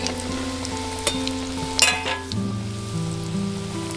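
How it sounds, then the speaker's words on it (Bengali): Vegetable chops deep-frying in hot oil in a wok in a village kitchen, a continuous crackling sizzle with occasional clinks of a utensil, close up and steady. "এবার আমি একটা একটা করে দিয়ে ভেজে নেব।"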